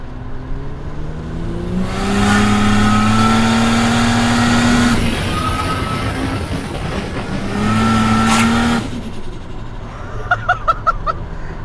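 An 800hp Ford Barra FPV F6 ute roars close and loud through two long revving pulls, its engine pitch climbing under throttle, then drops back to a rumbling idle with a few sharp bursts at the end.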